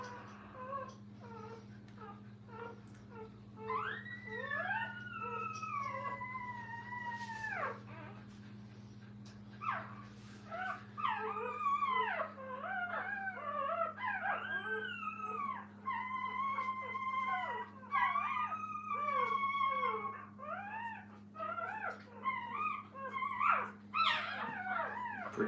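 Several young puppies fuss in a training kennel with high, wavering whines, whimpers and cries that rise and fall continuously, layered over a steady low hum in the room.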